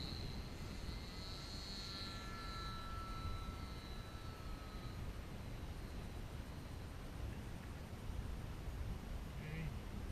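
Kadet LT 40 RC model airplane flying at a field, its small engine a faint, steady drone at a distance with slight rises in pitch, under a broad wind-like hiss.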